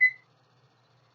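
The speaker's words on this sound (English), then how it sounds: "So I'm going to set the timer here" A kitchen timer being set for boiling eggs gives a single short electronic beep, followed by near silence.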